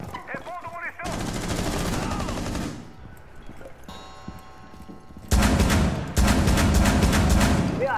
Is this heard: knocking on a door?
no